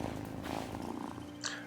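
A pet cat in the farming video game Wylde Flowers purrs with a steady, low, continuous rumble, close and moderately soft, carrying on alone throughout.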